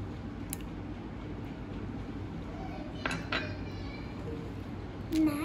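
An egg goes into banana bread batter in a mixing bowl, followed by soft, scattered clinks and taps of a utensil against the bowl over a quiet kitchen background.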